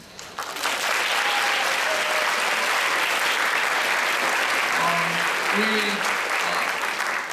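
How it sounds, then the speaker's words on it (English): Sustained applause from a large audience, steady and loud throughout after a brief softer start, with no talking over it. "please give a big applause to the students"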